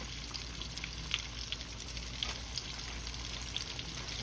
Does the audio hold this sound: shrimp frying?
yes